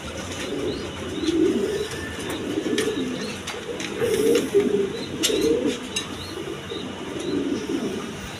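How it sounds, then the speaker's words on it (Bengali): Large king pigeons in red plumage coo steadily, layered low throaty calls rising and falling close by, with faint chirps in the background and no talking. "একদম বিগ সাইজের কবুতর দেখেন"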